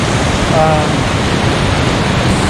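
Mountain creek in Rocky Mountain National Park near a campsite, a loud, steady rushing wash of flowing water heard close up and filling the whole moment.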